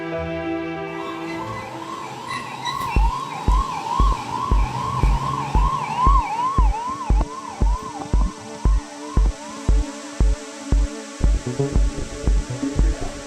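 A wailing ambulance siren rises and falls repeatedly, loud and close, with a regular throbbing pulse underneath it.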